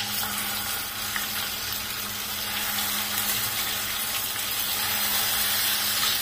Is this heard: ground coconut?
yes